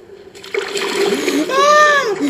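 Water splashes loudly as a shark drags a player through the sea in ARK: Survival Evolved. The churning splash swells with sweeping whistling tones layered over it.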